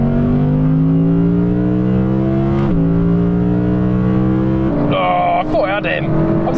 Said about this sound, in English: let's do third gear from 80 km/h, 50 miles an hour, where your turbo torque should help you